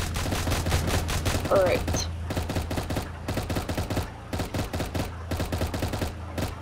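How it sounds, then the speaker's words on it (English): Minigun firing in the Roblox game Tower Defense Simulator during a Halloween event, rapid repeated bursts of shots in a fast stuttering rhythm, with a brief spoken remark over the gunfire. "we've got a little mini gun in here"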